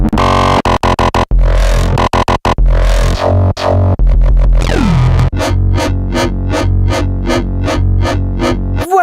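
Gritty FM synth sounds sliced and retriggered on a sampler: loud stuttering chops, a pitch-swooping sweep, then a rapid rhythmic pulse of repeated bursts, all instrumental with no voices.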